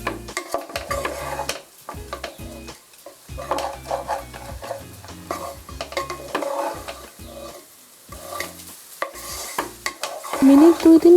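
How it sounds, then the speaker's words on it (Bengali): Gobindobhog rice being stirred and fried in ghee in a pan over a low gas flame, with steady scraping and stirring strokes and a soft sizzle running throughout, loud and close, with no talk. "মিনিট 2-3 চালটাকে ভালোভাবে ঘিয়ের সাথে ভেজে নেওয়ার পর"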